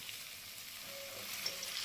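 Potatoes, cauliflower and peas frying in a pan as a little warm water goes in, a soft, steady sizzle and crackle, faint and continuous with no talk.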